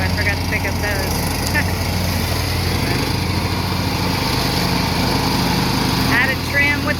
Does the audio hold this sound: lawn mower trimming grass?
yes